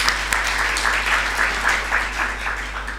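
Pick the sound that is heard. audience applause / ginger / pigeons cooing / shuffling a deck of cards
audience applause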